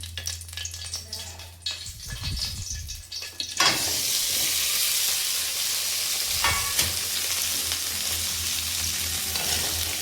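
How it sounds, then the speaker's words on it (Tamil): Tomatoes hit hot oil in a kadai: light clatter and stirring give way to a sudden loud burst of sizzling that holds steady and close, with occasional scrapes of a spatula and no speech. "இப்போ நம்ம இந்த கடாயிலே லைட்டாக எண்ணெய் ஊற்றிக்கணும். இது கூட தக்காளியை போட்டு வதக்க போகிறோம்."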